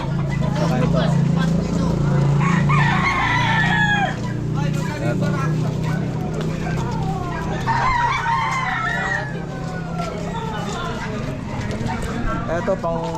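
Roosters crow repeatedly at a busy pet market, overlapping calls rising over constant crowd noise and clucking, with people talking throughout.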